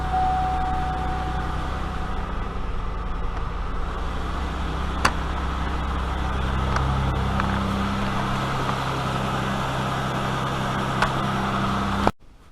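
A car engine idles steadily after starting, a low continuous hum with a faint high whine, a couple of brief clicks along the way, then cuts off abruptly near the end.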